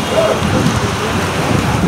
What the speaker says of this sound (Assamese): ছাইডৰ দোকান এখনতে ৰখি কিছু সময় আধা ননষ্টপ বৰষুণ দিছে